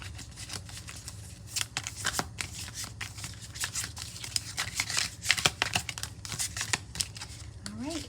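Large, heavy tarot cards are shuffled and handled up close, giving a quiet, irregular run of crisp slaps, riffles and crinkling rustles.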